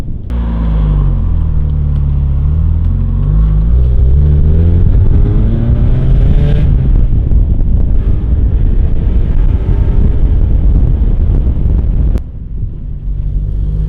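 A Mazda Miata engine with headers, slightly raspy, rumbles close and loud as it revs up and settles, its pitch climbing and falling steadily, with wind buffeting throughout and no talking.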